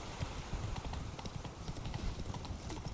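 Horse hooves in The Witcher 3 video game, clip-clopping in a steady rhythmic gait at moderate distance, continuous and fairly quiet.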